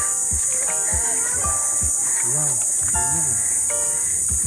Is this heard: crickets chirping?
yes